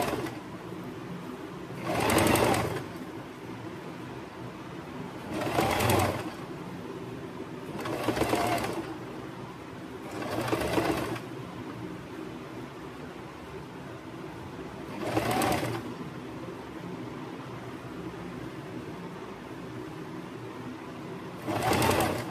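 A sewing machine fitted with a pico foot makes short stitching runs, several separate bursts a few seconds apart over a low steady hum, close by.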